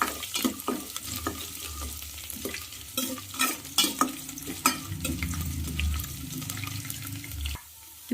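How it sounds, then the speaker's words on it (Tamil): Ginger sautés in a pan for Ven Pongal, the rice and lentil dish, with soft sizzling beneath repeated scraping strokes of a stirring spoon, close and uneven, ending in a brief quiet gap. "நல்லா வதக்கி விட்டுக்கோங்க."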